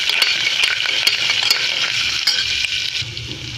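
Turmeric and coriander powder stirred into a sizzling frying pan: a bright, close, continuous sizzle broken by sharp metallic spoon scrapes and taps at irregular intervals, without any talking.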